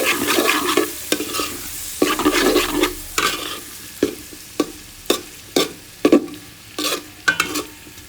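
Vegetables stir-fried with soy sauce in a pan for vegetable fried rice, giving a steady sizzle broken by a string of sharp spatula scrapes and clanks against the pan, close and fairly loud, with no talking.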